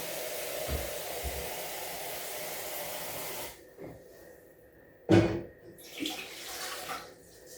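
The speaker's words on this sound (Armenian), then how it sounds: "Ավելացնում ենք 400 գրամ ջուր" Water poured into a cooking pot for quince jam, a splashing stream that starts after a steady hiss and runs in short bursts, loudest near the end.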